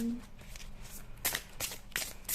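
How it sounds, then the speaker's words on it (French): A deck of tarot cards is shuffled by hand, with soft, quiet riffling and several distinct bursts of card flutter toward the end. "Donc on va mélanger"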